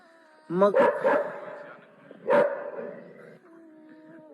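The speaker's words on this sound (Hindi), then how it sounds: "कुत्ते बहुत भौंक रहे" Several dogs bark close by in short bursts, a sharp volley at the start and another a couple of seconds later, with a whimpering tail between them.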